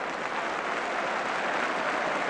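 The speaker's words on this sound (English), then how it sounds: "And generous applause for a Charlton move" Steady applause from a football crowd at the Valley, Charlton Athletic's ground, during a 1980/81 match against Exeter City, a broad continuous wash of clapping sustained without a break.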